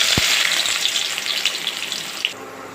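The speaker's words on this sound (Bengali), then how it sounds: "তেল গরম হয়ে গেছে, এখন পেঁয়াজ দিয়ে দিব।" Onion hits hot oil in a wok with a soft thump, then a bright, close sizzle that gradually eases.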